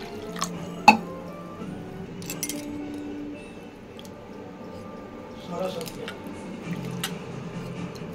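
Soaked sago is swished and rubbed by hand in a bowl of water, giving faint soft squishes, drips and a sharp clink near the start, with quiet kitchen ambience.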